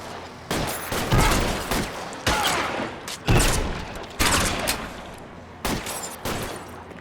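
Gunfire in the video game L.A. Noire comes as repeated sharp volleys of shots in bursts, loud and close, with short pauses between the rounds.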